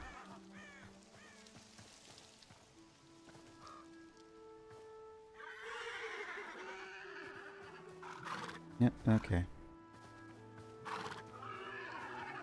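Horses in the Hytale game neigh and whinny amid soft in-game ambience, with a louder burst of whinnying near the end while someone talks over it.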